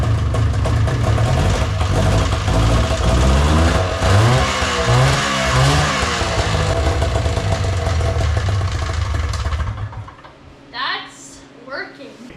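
A small engine sputters to life and runs steadily with a buzzing drone, loud and close, before cutting out near the end as voices speak.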